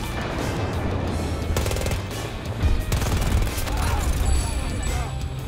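Rapid close-range automatic gunfire from the K30 weapon in the video game Battlefield 2042, loud continuous bursts mixed with other battle noise and excited players talking over it.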